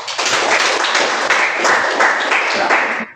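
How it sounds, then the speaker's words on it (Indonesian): Clapping from a small group of participants at a PPG Transformasi teacher training session, a brisk burst of hand claps lasting about three seconds and then stopping abruptly, close and fairly loud. "Oke, kita tepuk"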